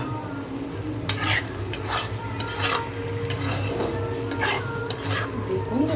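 Chopped, deseeded tomatoes are stirred into a frying curry of okra, onion and prawns, with repeated spoon scrapes and clinks against the pan over a continuous close sizzle.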